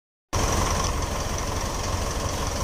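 Isuzu 4JJ1 diesel engine with a low-power fault idling steadily after about fifteen minutes of running, a loud close rumble with a constant mechanical clatter that starts abruptly and holds even throughout, with no talk.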